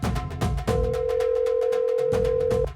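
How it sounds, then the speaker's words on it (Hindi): A phone rings on speakerphone as one steady electronic tone lasting about two seconds, loud and sustained over background music. "फोन बज रहा है"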